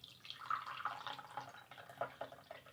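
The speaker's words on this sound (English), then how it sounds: "let's quickly pour the tea" Tea being poured into a cup, a faint, steady trickle and splash lasting a few seconds with small drip-like bursts, close by and otherwise quiet.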